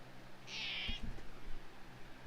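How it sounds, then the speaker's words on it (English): A cat meows once, a short, fairly soft cry close by, followed by a few faint low thumps in a quiet room. "Cookie, what are you meowing about?"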